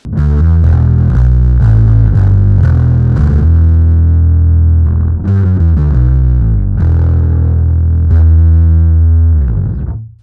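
Heavily fuzzed, distorted bass guitar through an Electro-Harmonix Bass Big Muff Pi pedal in bass boosted mode, with a thick, boomy low end, playing a riff of notes and sustained chords, loud and alone.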